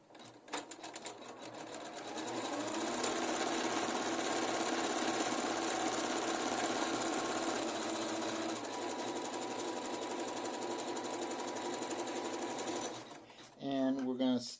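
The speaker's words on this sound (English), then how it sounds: "We press start" A Janome MC12000 embroidery machine stitches close by in a steady, fast, rattling hum that lasts about ten seconds, then stops, followed by a short bit of speech.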